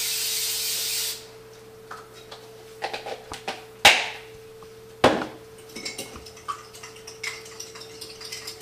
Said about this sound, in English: you have to spray the pan with the pan spray